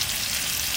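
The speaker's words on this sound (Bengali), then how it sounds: "আলু কটা একটু ভেজে নিয়েছি" Potatoes sizzle steadily in hot oil in a pan, a bright, continuous hiss with no talking over it.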